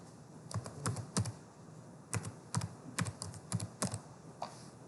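Keys clatter on a computer keyboard in short bursts of quick taps with brief pauses between them, close and fairly quiet, with no voices over them.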